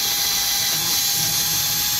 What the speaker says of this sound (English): Drill your hole going through.